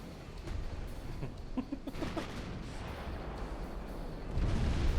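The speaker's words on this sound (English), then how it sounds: "now it has 2 battleships firing at it" Battleship guns fire in a naval battle in Ultimate Admiral: Dreadnoughts, heard as muffled, distant booms and rumbling over a steady low drone, swelling louder near the end.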